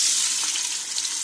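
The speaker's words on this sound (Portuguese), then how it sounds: "aqui eu vou estar colocando cebola e alho para dourar" Chopped onion and garlic fry in olive oil in a pan, giving a steady, close, bright sizzle that holds even throughout without any talking.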